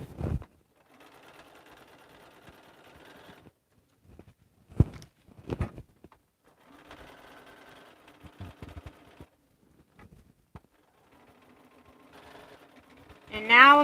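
Sewing machine stitching a lined stocking with a pocket, three short bursts of steady whirring needle chatter separated by pauses, with soft handling knocks between and a brief thump at the end.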